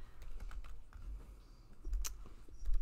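Fingers tap on a computer keyboard in short, uneven bursts of soft clicks, close but faint over a low background hum.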